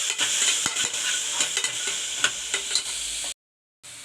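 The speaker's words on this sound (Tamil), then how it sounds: "இது சேர்த்து நல்லா வதக்கி விட்டுக்குங்க." Vegetables with a spoonful of yogurt sauté in a hot pan with a steady, bright sizzle, broken by repeated light clicks and scrapes of a stirring spoon. It is close with no voices, then cuts to a brief silence before the sizzle returns.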